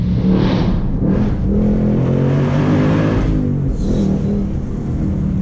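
A Ford Mustang Shelby GT500 engine revs hard and loud, rising and falling through the gears with a deep roar that stays close throughout.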